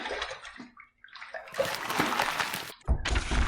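Water splashing and sloshing at a sink as a face is rinsed mid-shave, coming in loud close bursts separated by short pauses, with no speech.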